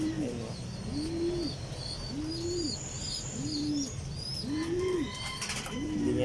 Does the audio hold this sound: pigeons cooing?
yes